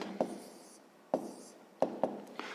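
Pen writing a math answer on paper, four or five short scratchy strokes in separate bursts with brief pauses, close and fairly quiet.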